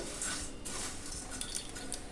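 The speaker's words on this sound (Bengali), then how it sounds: "চিড়েগুলোকে হালকা ভেজে নিয়ে তারপরে আমি তুলে নেব।" Flattened rice (chira) fries lightly in ghee in a pan, stirred with a metal utensil that clinks and scrapes over a soft, even sizzle, close by.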